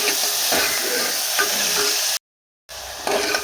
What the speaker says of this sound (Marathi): नंतर थोडीशी कांदा हा आपल्याला छान तेलामध्ये भाजून घ्यायचा